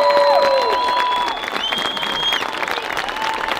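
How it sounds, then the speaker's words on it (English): Heartfelt applause rises from an audience at an on-stage ceremony, a dense, steady clatter of many hands mixed with crowd noise and a few bright tonal whistles or cheers. "Let's show them how we feel about them with another round of heartfelt applause."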